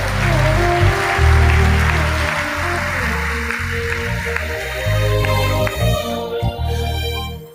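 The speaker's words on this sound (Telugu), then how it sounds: "చప్పట్లు పెట్టి దేవుని మహిమపరుద్దాం" A church congregation at a Telugu worship service claps together, loud and sustained, over a low droning musical backdrop. The applause eases off toward the end.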